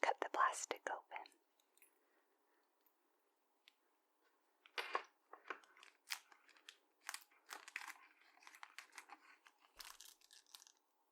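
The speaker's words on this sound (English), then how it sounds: "Just gonna use a small pair of scissors to cut the plastic open." Small scissors snip through plastic packaging on a collectible blind-box toy, close and crisp, with short bursts of cutting and crinkling separated by quiet pauses and soft whispering.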